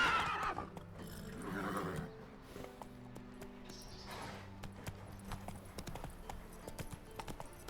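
Hooves clip-clop steadily from Roach, a horse in The Witcher 3, with a whinny near the start and a musical score playing underneath the rhythmic footfalls.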